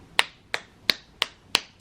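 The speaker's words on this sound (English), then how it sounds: "Slow clap for this one." Five sharp claps ring out one at a time at a slow, even pace of roughly three per second, close and crisp against a quiet room.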